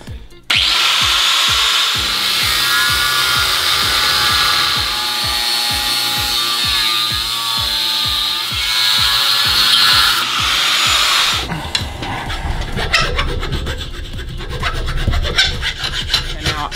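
A thick aluminium heat sink fin is sawn off in long, steady, rasping strokes, loud and close, followed by scraping and handling noises as the cut finishes.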